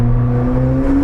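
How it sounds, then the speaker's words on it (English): A standard-exhaust McLaren 765LT engine drones loud and close inside a tunnel, a steady deep rumble with strong low harmonics that holds without a break. "Maybe we can hear what the car sounds like in the tunnel."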